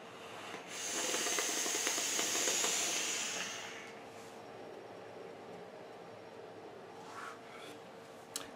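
Long draw on an e-cigarette wired in series at 8.4 volts, a soft airy hiss lasting about three seconds before fading to quiet room tone, with a faint click near the end.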